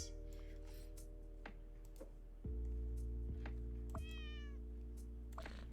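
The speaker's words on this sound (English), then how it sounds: "Meow." A short sequence from a cozy cat-sorting puzzle video game: a synthetic cat meow rises briefly over steady low electronic tones and soft ticking clicks, one clear call midway through.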